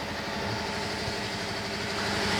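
Car engine running at a steady idle, a continuous low even drone with faint mechanical ticking, heard alone without talk.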